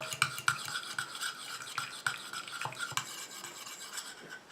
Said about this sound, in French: Et je rajoute ma phase aqueuse tout en mélangeant.